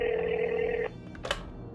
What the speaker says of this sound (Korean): 재빨리 그녀의 번호를 눌러 전화를 걸었다.